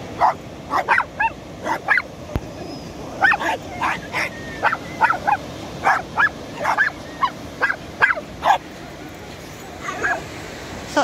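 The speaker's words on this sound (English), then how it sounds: "Such a friendly little dog" A small dog yaps repeatedly in quick, uneven bursts, sharp and close, over faint outdoor background noise on a beach.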